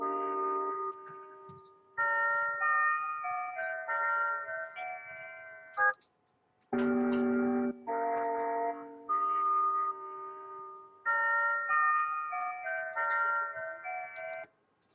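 Electronic chime melody of bell-like tones in a tritone pattern, ringing out in repeated phrases of sustained notes with brief gaps, clear and close with no talking.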